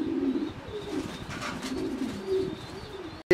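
Pakistani Zira Army pigeons coo in low, rolling, repeated calls close by, with a faint higher chirp above, ending in a brief cutoff.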